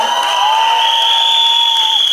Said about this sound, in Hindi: एक बार उसके लिए जोरदार तालियां